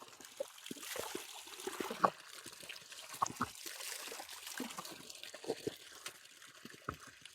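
Natural water trickles and drips softly in a remote African village near the Kenya–Uganda border, a faint, steady wet babble with small irregular splashes and no voices.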